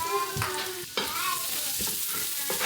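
Finely cut carrots stir-fry in bacon fat over high heat for Japanese-style steak fried rice: a steady, close sizzle with repeated scraping stir strokes.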